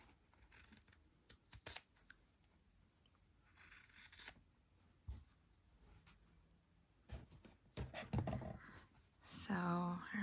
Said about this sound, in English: Now I just need to make sure that I'm cutting from the right side when I'm cutting all